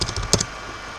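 A brief burst of quick clicks from a computer keyboard, several keystrokes in rapid succession, close and clear, then quiet.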